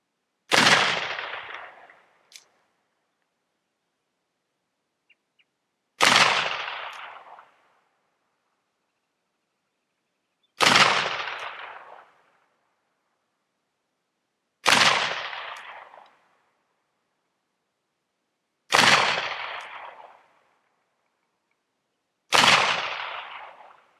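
Cap and ball revolver fired at a target, six loud, sharp shots spaced about four seconds apart, each with a ringing decay, silence between.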